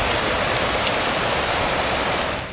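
Torrential monsoon rain in Balochistan, Pakistan, with floodwater rushing through hill streams, a loud, dense, unbroken roar of pouring and flowing water close by.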